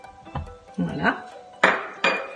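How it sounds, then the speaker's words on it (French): Metal pots and pans clank and scrape several times in quick succession, close by, with cutlery-like clinks between the knocks, as a saucepan is set up for melting butter. "vous prenez une casserole, vous mettez à fondre votre beurre"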